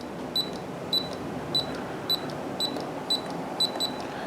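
Short electronic double beeps from a LaGard electronic safe lock keypad repeat at a steady pace, about eight pairs, crisp and close against a quiet background hum.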